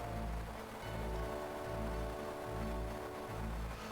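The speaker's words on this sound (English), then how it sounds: "So unfortunately that rain sound's going to happen throughout the entire fight." Steady rain falling in the video game Final Fantasy Tactics during a battle, a continuous hiss layered over a looping low musical pulse, with no talking.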